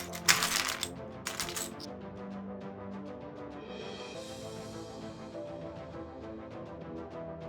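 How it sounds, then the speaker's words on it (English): A zipper being zipped: two quick rasping bursts near the start, then a steady run of faint ticking clicks, fairly quiet and close. "A zipper."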